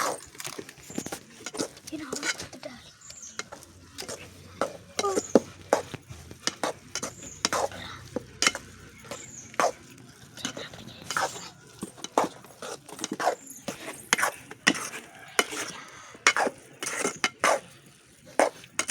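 Maggi noodles stirred in a pot, with soft repeated scraping and clinking of a spoon against metal in irregular bursts, while a person talks quietly over it.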